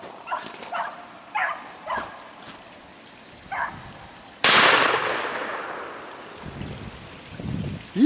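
A single loud shotgun blast at a running rabbit during a small game hunt, preceded by several dog barks, with the boom rolling and decaying outdoors over a few seconds.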